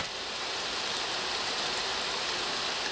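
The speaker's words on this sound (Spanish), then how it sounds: "os voy a enseñar un poquito fuera para que veáis que está lloviendo" Steady rain falls outside an abandoned mansion, a constant dense hiss of drops with no pauses, fairly loud and close.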